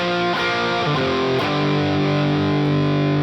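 A heavily distorted, high-gain electric guitar plays sustained power chords in a heavy shuffle rock riff, with a few quick chord changes early on before one long, loud ringing chord rich in overtones.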